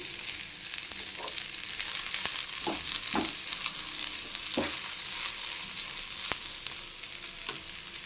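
Grated coconut and turmeric fry in a pan for an egg chicken sambar, a loud close sizzle running throughout with intermittent scraping stirs and soft knocks against the pan.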